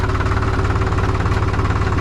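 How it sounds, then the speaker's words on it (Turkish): A tractor engine at idle, steady and loud with a fast low knocking pulse and a constant rumbling drone, close up with no voices. "şu an traktör boşta"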